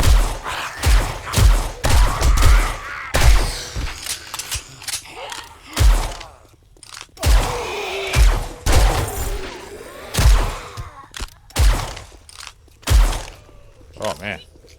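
Guns firing in 7 Days to Die during a test before Horde Night, with repeated loud shots and bursts in an uneven rhythm mixed with thuds and mechanical clanks, plus a voice talking over them.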